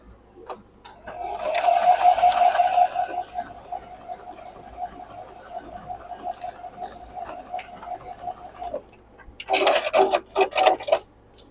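A sewing machine stitches quilt blocks in a steady, fast mechanical whir that runs for several seconds, pauses briefly, then starts again in a short second burst, close and without talk.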